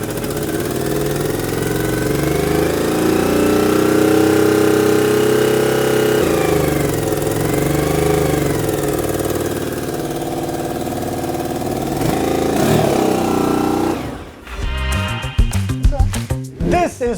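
A Honda VFR 750 motorcycle engine runs steadily close by at a low idle, its pitch wavering slightly before a burst of sharper revving near the end.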